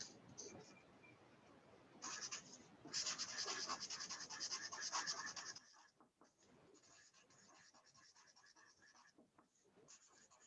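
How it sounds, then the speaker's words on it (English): Pen scratching across a sheet of paper, close and fairly quiet, with a denser burst of continuous strokes in the middle before the writing thins out to lighter, intermittent scratches. "Just wrote it on a piece of paper."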